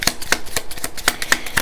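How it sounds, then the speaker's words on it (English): Letter cards being shuffled by hand during a reading, a quick run of crisp, close riffling snaps in an uneven rhythm, fairly loud and alone without talk. "We're going to shuffle these a couple times, okay?"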